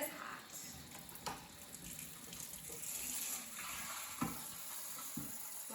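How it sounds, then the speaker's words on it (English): Water from a tap runs and splashes as a Vicks humidifier part is rinsed, a faint continuous gush with small knocks of plastic and a little background talk. "I'll just rinse it"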